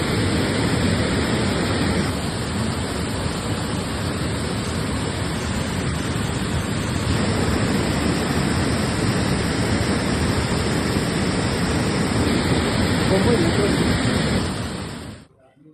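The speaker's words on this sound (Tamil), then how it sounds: "மழையால் இரைச்சல்பாறை அருவியில் தண்ணீர் ஆர்ப்பரித்து கொட்டுகிறது" Water from the Irachalparai waterfall, swollen by heavy monsoon rain, crashes down in a loud, continuous roar with a dense, unbroken wash of noise that fades out abruptly at the end.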